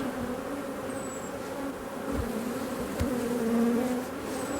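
Honeybees buzz in a dense, continuous drone around a small, crowded hive, steady and close, with no voices over it.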